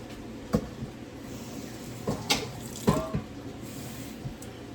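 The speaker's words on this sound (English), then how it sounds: "let me rinse this out" A kitchen tap runs steadily while something is rinsed under it, with a few brief clunks and splashes from handling the item in the sink.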